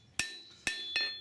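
A bladesmith's hammer strikes metal on an anvil three times, each blow a sharp, bright ringing clang with a lingering metallic tone, spaced unevenly and heard up close.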